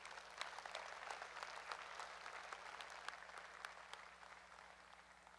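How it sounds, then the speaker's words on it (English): An audience at an Ayrshire dairy cattle show gives a steady round of applause to the exhibitors in the show ring. The clapping is faint and distant, with a low hum under it. "can we give all these exhibitors out here in this ring a great round of applause?"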